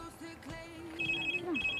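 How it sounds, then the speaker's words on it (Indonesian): A telephone rings twice in short electronic bursts during a live call-in broadcast from Palembang, moderately close over a quiet background. "Ada telepon, ntar ya."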